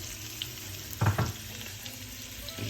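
Potatoes and fresh figs fry softly in a pan, with a brief scraping stir partway through over a steady low sizzle.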